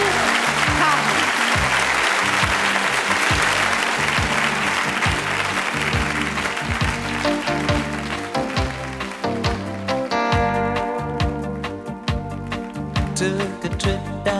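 A concert audience claps loudly and steadily in a dense wash of applause to welcome a singer, with music starting up through the last few seconds.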